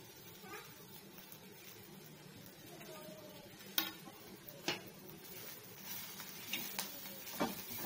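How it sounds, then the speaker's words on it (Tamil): Ponnanganni spinach cooking in oil in a pan makes a soft steady sizzle, with a few sharp clicks and taps of a stirring utensil scattered through and a voice faintly speaking underneath. "கீரை அந்த ஆயிலே தான் வெந்துட்டு இருக்கு"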